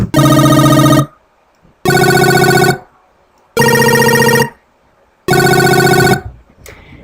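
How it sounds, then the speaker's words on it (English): A fast 8-bit arpeggiator synth built from a square-wave oscillator with a little sub underneath plays four bright, buzzy bursts of about a second each, separated by brief silences, loud and close. "the fast arpeggiator, which is like the main sound"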